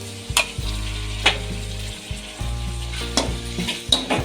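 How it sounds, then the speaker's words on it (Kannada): Green chillies and very ripe tomatoes frying in a pan for chicken gravy, with a loud, close sizzle and repeated stirring scrapes every second or so. "ಟೊಮೆಟೊ ಕೂಡ ತುಂಬ ಸಾಫ್ಟಾಗಿ ಫ್ರೈ ಆಗಬೇಕು ಇದೆಲ್ಲ ಚೆನ್ನಾಗಿ ರಸ ಬಿಡೋ ಥರ ಫ್ರೈ ಮಾಡ್ಕೋಬೇಕು"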